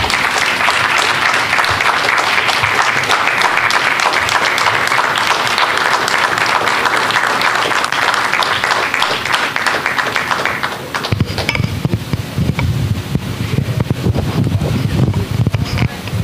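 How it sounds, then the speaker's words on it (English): Audience applause at a men's annual musical event, sustained and dense for about eleven seconds, then thinning into scattered clapping and crowd noise as the host keeps talking. "Let's give Dr. Williams another hand clap."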